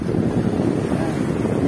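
Strong wind blows hard at the Pacific Ocean shore, a loud, continuous roar buffeting the microphone with surf faintly underneath.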